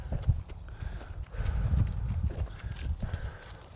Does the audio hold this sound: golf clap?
no